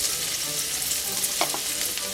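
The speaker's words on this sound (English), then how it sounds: "I'm going to add in 1/2 cup of chopped shallots, along with 1 chopped garlic clove" Chopped shallots and garlic sizzling in melted brown butter, a steady, close frying hiss with small pops throughout.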